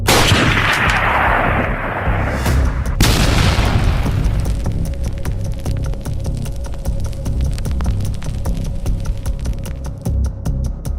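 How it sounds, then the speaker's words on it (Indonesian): A loud booming blast erupts at the start and rolls away, followed by rapid crackling pops like debris or distant gunfire. "Terdengar ledakan keras."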